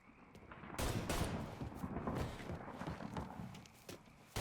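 Gunfire and heavy shotgun blasts ring out in a street fight in the video game Mafia 3, a loud, rapid, overlapping barrage with echoing booms and scattered footsteps.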